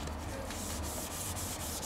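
Wet sandpaper rubbed by hand over a car headlight lens, a steady soft scraping hiss with faint repeated strokes, continuous and close with no talking.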